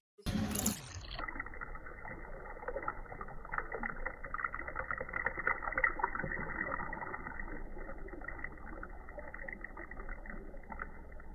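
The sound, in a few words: washing hilsa fish in water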